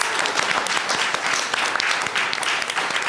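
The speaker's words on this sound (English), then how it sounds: "can you give them a round of applause?" A conference audience claps in a brief, dense burst of applause, many hands close together, even and sustained for a few seconds.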